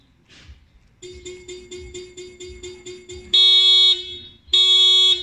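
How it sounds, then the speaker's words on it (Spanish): A Honda CR-V car alarm goes off nearby, first with a rapid series of short beeps, then with two loud, sustained shrill siren tones. "La alarma se activa en automático."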